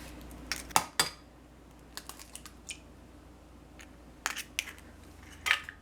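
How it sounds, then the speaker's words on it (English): Eggs cracked and whisked in a bowl, heard as sharp clinks and taps in brief clusters, with quiet gaps between the bursts and no talking. "the first step is to break the eggs and mix them up"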